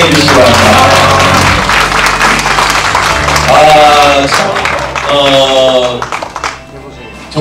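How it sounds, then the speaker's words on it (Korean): An audience at a book launch in Changwon claps to welcome former lawmaker Lee Un-ju, loud dense applause filling the room and thinning toward the end, with a voice speaking over it. "박수로 환영해 주시기 바랍니다"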